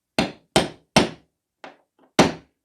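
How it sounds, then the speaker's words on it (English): A nail driven into model railway track by hammering a bolt set on top of it: five sharp metallic knocks, one noticeably softer, spaced unevenly at close range with silence between. "And then I use the bolt on top of the nail just to hammer it"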